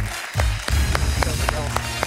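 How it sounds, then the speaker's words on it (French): Slow, evenly spaced claps ring out at a French TV quiz show for the finalists, with roughly half a dozen distinct hits over a low background hum. "Et moi, je vous applaudis parce que je me régale"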